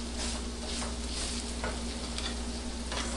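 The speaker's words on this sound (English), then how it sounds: "Stir up the chips a little bit." Homemade chips stirred in a frying pan, a steady close sizzle of hot oil with scraping stir strokes breaking through it over the whole stretch.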